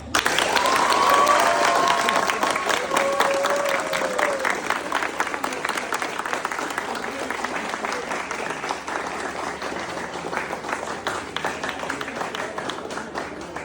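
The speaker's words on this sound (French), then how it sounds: "On les applaudit, lui et toutes, très très fort." Prolonged applause at a school prize ceremony for a mathematics competition, a full hall clapping strongly and steadily, with a brief voice over it early on before the clapping gradually thins.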